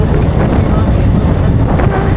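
Steady rushing wind buffeting the microphone in the Sundarbans countryside, loud and continuous throughout with no pauses.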